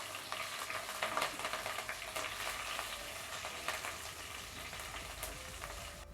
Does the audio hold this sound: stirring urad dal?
yes